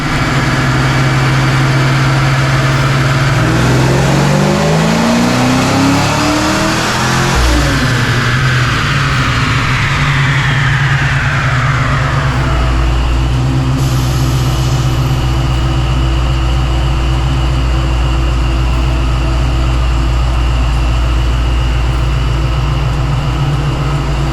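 A 347 stroker V8 in a Foxbody Mustang run up on a dyno, loud and close: the engine climbs through a long rising rev sweep, peaks, then drops back to a steady rumbling idle, with no talking.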